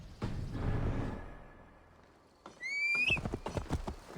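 A horse in the game Assassin's Creed Valhalla clops along, then after a brief lull lets out a loud, close, high whinny followed by more hoofbeats.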